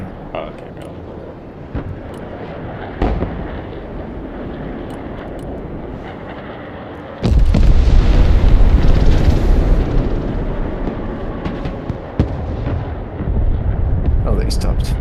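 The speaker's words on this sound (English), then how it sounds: "I'm shooting, I'm bombing them." Bombing explosions in the military strategy game Broken Arrow, an F-35 striking ground targets: a sudden heavy burst of roaring blast noise halfway through that rumbles on, with scattered sharper reports and someone talking over it.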